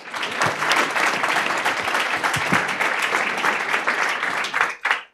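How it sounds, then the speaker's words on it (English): A luncheon audience claps for a panel, a loud, steady wash of many hands sustained throughout before cutting off abruptly at the end. "another big round of applause for this amazing panel"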